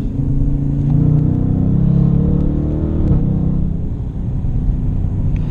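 Deep engine rumble from a 2017 Dodge Challenger R/T rises and swells as the throttle opens, a low, close, sustained growl without speech.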